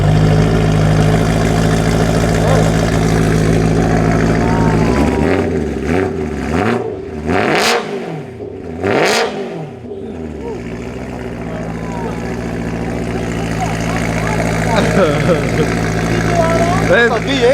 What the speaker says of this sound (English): That's a V8? Yeah, it's a V8 in there.